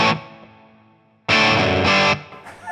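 A Marshall Plexi amp pushed hard drives a distorted electric guitar playing a riff, with loud chopped chord stabs separated by brief gaps where reverb rings out.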